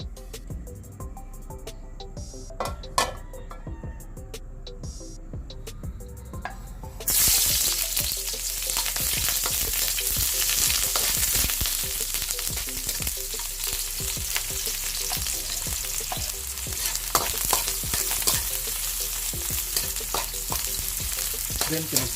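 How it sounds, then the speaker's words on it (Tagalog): Onion and garlic hit the hot pan on the stove when cooking begins for sautéed kangkong with oyster sauce. Quiet kitchen clatter comes first, then a loud, steady sizzle with stirring scrapes that continues to the end. "nag-open na tayo ng pan at saka yung ating kalan para start na tayong magluto ng ating ginisang kangkong with oyster"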